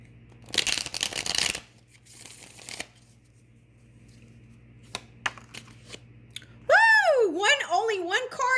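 Tarot cards are shuffled in a brisk rustling burst for about a second, followed by a few soft taps and card handling, then a person starts speaking.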